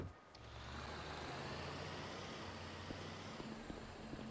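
A garbage truck in GTA 5 rumbles with a steady low engine drone, close and sustained, with a few faint tonal beeps toward the end and no talk.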